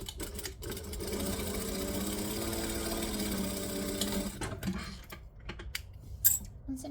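Sewing machine running a steady, close mechanical whir as it stitches a bag seam, stopping after a few seconds, followed by clicks and handling noises.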